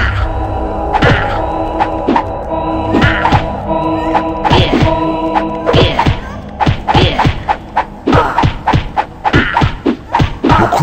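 Creatures brawling in battle in Dungeon Keeper give a steady run of heavy thuds and whacks, close and loud, spaced irregularly then quickening into a dense flurry of blows over a low hum.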